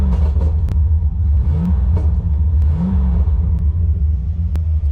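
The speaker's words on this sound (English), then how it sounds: "I just started my car back up" A C4 Corvette engine idles after a restart, a close, steady low rumble with slight rises in revs and faint clicks over five seconds.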